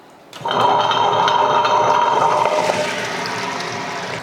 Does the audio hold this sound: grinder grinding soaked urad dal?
yes